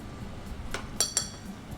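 Utensils clink sharply twice against a dish while cornstarch is mixed with broth, two bright metallic taps over a low kitchen hum, close and fairly quiet.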